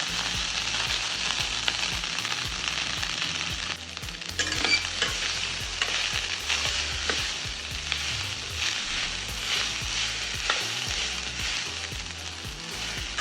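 Rice frying in ghee in a pan with continuous close sizzling, and a spoon scraping and stirring repeatedly across the pan.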